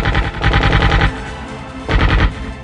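Sustained bursts of automatic gunfire from commandos, a rapid rattling volley, a short pause, then another loud burst, close and dense with no talk.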